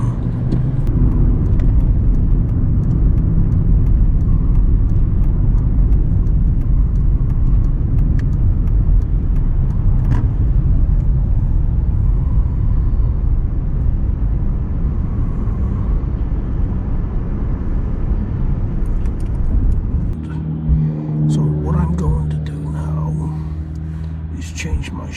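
A car on the move gives a steady low road rumble and engine drone throughout, fading near the end as the tone shifts and some clicks and handling noises appear.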